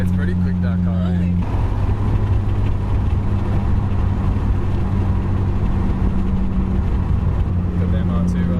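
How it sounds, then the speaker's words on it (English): A Toyota MR2 engine idles with a low, steady rumble that shifts to a rougher, fuller drone as the car rolls closer. "Got the MR2 rolling in."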